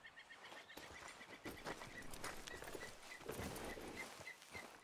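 Horse hooves clip-clop steadily in Red Dead Redemption 2, a continuous rhythmic trot at moderate volume with ambient outdoor game sounds and no speech.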